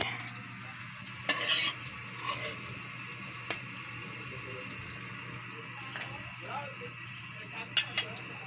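Fried pork lifted out of a pan with a utensil: a few scattered clinks and scrapes over a faint, steady sizzle, fairly quiet and close.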